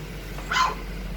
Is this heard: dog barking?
yes